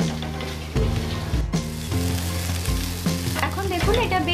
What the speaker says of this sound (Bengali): এখন এটা আবার নাড়াচাড়া করব এবং খুব ভালো করে ভাজব।